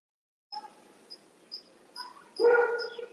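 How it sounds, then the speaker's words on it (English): During an online school board meeting, a single dog bark bursts out near the end, fairly faint, after a series of brief, high-pitched chirping tones in otherwise quiet background. "Oh, that's someone barking."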